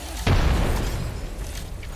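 A grenade goes off in a shooter video game with a sudden deep boom that rumbles and fades over a couple of seconds, heard alone without voices.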